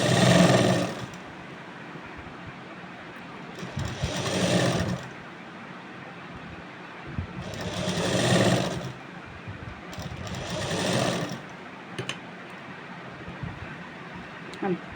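An electric sewing machine runs in four separate bursts while stitching a Rajasthani kanchli blouse, each run a steady buzzing whir of a few seconds with quiet gaps between.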